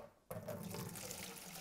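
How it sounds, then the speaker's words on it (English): Beer wort at about 110 degrees poured slowly into a fermenter during home brewing, a steady close splashing, gurgling stream that starts abruptly and continues without talk. "and we're going to pour it into our fermenter."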